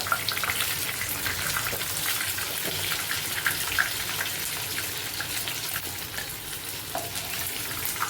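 Chicken pieces for chilli chicken frying crisp in hot oil, a steady dense sizzle and crackle that holds evenly throughout, close and fairly loud with no talking.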